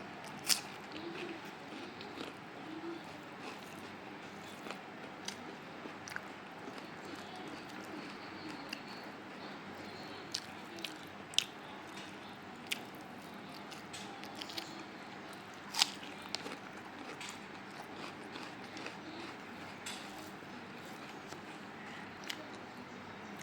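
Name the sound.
chewing and eating rice with beef and onion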